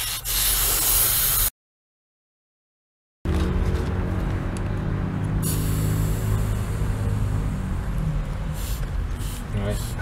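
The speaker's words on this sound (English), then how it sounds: "Use a wrench to press the valve in so that the air can be released easier." Air hisses out of a MyWay/Inokim scooter tyre valve as a steady, loud spray-like rush, broken once by a short silent gap, then continuing under a voice.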